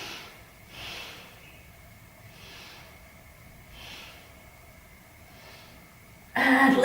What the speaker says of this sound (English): I want you to take 3 deep breaths.